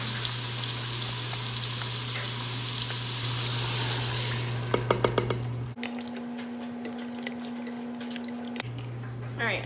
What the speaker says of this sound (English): I'm going to throw in there 1 cup of beef bone broth.